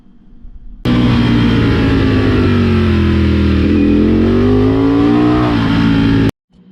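Ducati motorcycle engine roaring steadily through corner 2 at the Yeongam KIC circuit, loud and close for about five and a half seconds with slight pitch changes, then cutting off abruptly.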